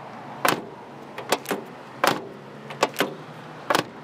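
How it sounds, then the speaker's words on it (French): Car doors on a 1977 Datsun 280Z shut several times in quick succession, each a close, solid thunk with short gaps between, heard alone. "c'est la fermeture des portes."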